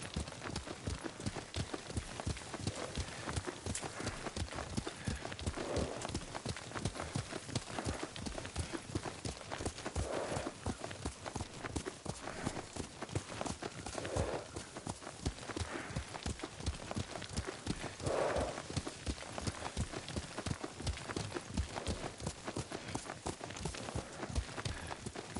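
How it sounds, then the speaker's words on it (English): Horse hooves gallop in a fast, steady clip-clop rhythm through a Ghost of Tsushima ride, loud and continuous, with occasional faint voices and a soft rain-like wash behind. "Lord Sakai taught me to ride a horse"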